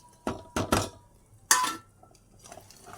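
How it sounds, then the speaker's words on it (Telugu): Pieces of mutton go into a cooking pot for mutton pickle, bringing a few sharp metallic clinks and clatters of a utensil against the pot, close by, followed by quieter stirring noises. "ఇప్పుడు దీంట్లోకి మటన్ ముక్కలు వేసుకుందాం మనం."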